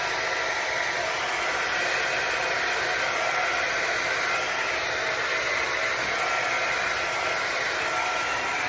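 A hair dryer on its cool setting blows a constant, loud, even rush of air close by, unbroken for the whole stretch, with no talking over it.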